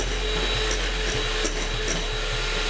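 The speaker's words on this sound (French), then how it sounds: "on va fouetter au maximum pour obtenir une crème chantilly" Cream being whipped at full speed into chantilly for a banoffee Christmas log: a steady, loud motorised whir with faint periodic knocks of the whisk against the bowl.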